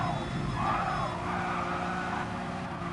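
Race cars in the GT Sport video game, a Ferrari and a Honda, give a steady high engine whine and tire noise, continuous and loud with no pauses.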